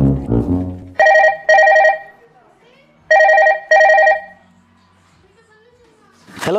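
An old-style telephone bell rings in two pairs of bright, loud trills separated by pauses, with a brief voice at the start and a rustle at the end.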